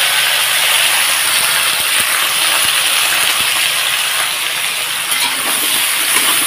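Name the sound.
chopped mixed vegetables sizzling as added to hot pan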